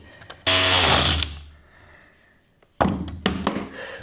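An angle grinder fitted with an oscillating multi-tool attachment buzzes in two loud bursts against plastic pipe, whining harshly without cutting, with a quieter gap between the runs.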